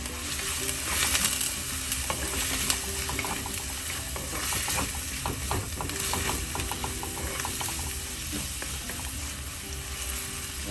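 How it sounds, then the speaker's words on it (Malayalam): Ginger, garlic and green chili sautéing in a pan: a dense, steady sizzle with rapid scraping and clicking stirs running throughout, close and fairly loud. "അതിലേക്ക് ഇഞ്ചി ചേച്ചത് വെളുത്തുള്ളി ചേച്ചത് പച്ചമുളക് കീറിയത് എല്ലാം കൂടെ ഇട്ടൊന്ന് വഴറ്റാം"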